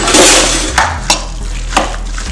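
Vegan unchicken salad being mixed in a bowl, a loud scraping swirl followed by three separate sharp utensil knocks against the dish, close and without talk.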